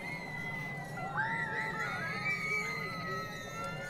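Crowd of children screaming and shouting at an outdoor Halloween event, a steady loud mix of high, wavering shrieks over background crowd noise for the whole stretch.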